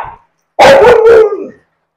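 Dogs bark in a short close burst of about three loud barks run together, preceded by a faint yelp, then silence.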